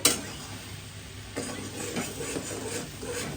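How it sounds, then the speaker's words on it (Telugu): Masala sizzles softly in hot oil in a pan, with a steady low frying hiss. Faint scraping and stirring sounds come through now and then, and no one speaks. "ఎర్రగా పచ్చగా ఉన్న మసాలా ఎర్రగా వచ్చేంత వరకు నూనెలో బాగా వేపుకోవాలి"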